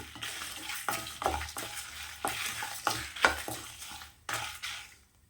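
Dried red chillies, including Kashmiri chillies, roasting with a little rice in a pan for a coconut gravy, stirred in repeated scraping strokes with a faint sizzle beneath, close and moderately loud, with no talking.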